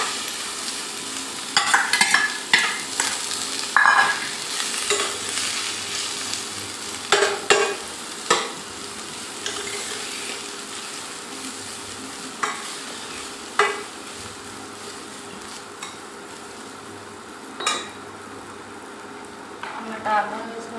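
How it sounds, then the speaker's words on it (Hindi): Asafoetida and cumin frying in a pan, a steady broadband sizzle with scattered sharp scraping taps of a stirring spoon against the pan, moderately loud and close, with no talking. "हींग और जीरा हमारा यहाँ पे अच्छे से भुन चुका है।"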